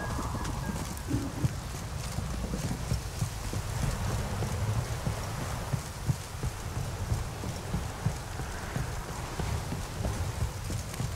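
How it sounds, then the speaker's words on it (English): Heavy downpour in The Witcher 3 on PC, a dense continuous hiss of rain with a low rumble underneath and faint rhythmic clopping, steady and unbroken throughout. "It's blowing, pouring again."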